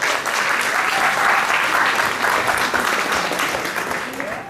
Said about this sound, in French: Donc eux aussi, vous pouvez les applaudir très fort.